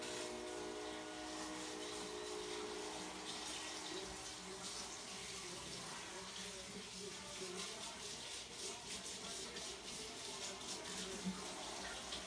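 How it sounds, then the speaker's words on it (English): Steady running tap water splashing over hands at a sink, a continuous broadband wash of water with faint clinks and movement, no talking. "So now I'm just gonna wash my hands quickly and then dip the rest."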